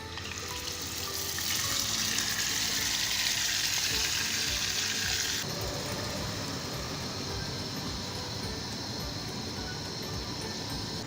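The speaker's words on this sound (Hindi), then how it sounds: "एक पैन में 4 चम्मच कुकिंग ऑयल डालकर गर्म करेंगे और हमारा जो चिकन टिक्का है इसमें डालकर कुक" Chicken tikka sizzles in hot cooking oil in a pan, a loud bright hiss in the first half that drops to a softer, steadier crackle, with no speech heard.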